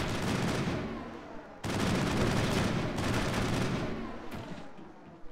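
Bots in Mass Effect trade gunfire in a dense, continuous fusillade of rapid shots, with a sudden louder burst that runs steadily before thinning out, under faint talk.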